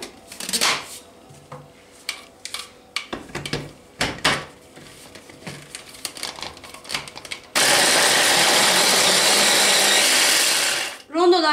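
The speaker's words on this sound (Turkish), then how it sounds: "Badem hamurumuzu rondomuza alıyoruz ve" A food processor roars steadily for several seconds, blending almond paste, after a stretch of clattering bowls, lids and utensils being handled in a kitchen.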